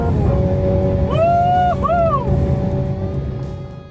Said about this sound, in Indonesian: Tapi kami membuktikannya lebih dari itu ngebut di sirkuit oval.